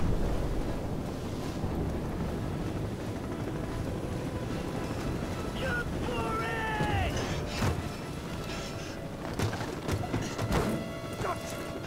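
A ship slowly sinking at sea in the Call of Duty 4 video game: rushing wind and water, creaking metal groans and crashing impacts building up over a constant roar.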